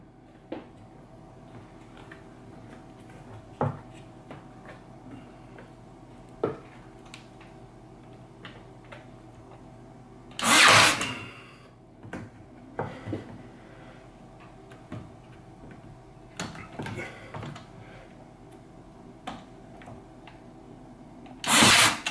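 A pneumatic nail gun fires in sharp bursts, with scattered quieter clicks and handling knocks between shots, heard close with no talk.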